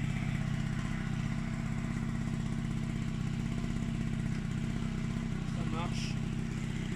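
A Gilera Stalker scooter idles steadily and close by on its first start after a new wiring harness was fitted, giving a continuous buzzing engine drone with a faint clatter.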